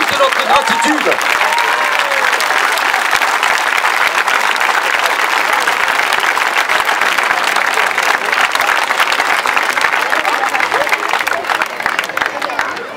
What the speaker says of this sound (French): je vous demande de les applaudir à la mesure de leur mérite et de toute notre gratitude